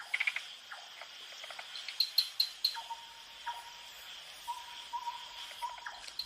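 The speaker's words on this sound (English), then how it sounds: "A night owl," A night owl calls at night while tree frogs and crickets keep up a steady high chirring. Bright repeated notes come in short bursts and there are longer piping calls, all fairly close in a quiet forest soundscape.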